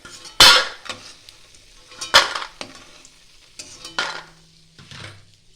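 Bori lentil dumplings are lifted out of hot frying oil with a spoon or slotted ladle, giving several sharp scraping clinks against the pan over a soft sizzle.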